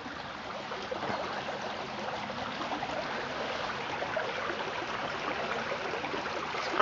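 A crystal-clear babbling brook with little waterfalls at Carr House Farm on the Holbeck near Ampleforth, a steady, even rush and trickle of water heard close and alone.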